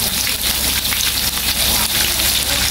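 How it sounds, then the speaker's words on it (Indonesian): Three pieces of chicken fry loudly in hot oil, a dense, continuous crackling sizzle like heavy rain that fills the whole stretch without pause. "oke kita goreng ayamnya kita goreng 3 potong ayam"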